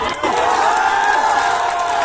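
A large crowd at an outdoor election rally in Bihar cheers and roars in a steady, loud wash of voices that holds without a break throughout.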